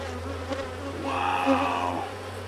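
Honeybees buzz steadily inside a hive as newly emerged bees crawl over the comb, a close, continuous insect drone that swells briefly in the middle.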